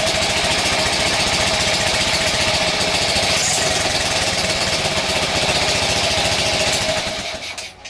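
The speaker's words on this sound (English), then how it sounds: "when I hit the kickstart now, it should in theory start" A Honda Cub C65 motorcycle's small engine idles in a steady, close, rapid putter that runs unbroken before easing off at the end.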